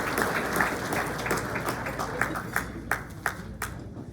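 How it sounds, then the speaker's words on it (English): Audience applause at a Corona community breakfast event, a moderate wash of clapping that thins out toward the end into a handful of distinct, separate claps. "Let's give Chad a round of applause."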